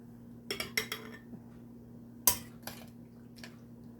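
Shredded cabbage is packed into a glass bottle for sauerkraut, giving a few sharp clinks and knocks of utensil against glass, scattered and quiet over a faint steady hum.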